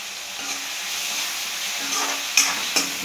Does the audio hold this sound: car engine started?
no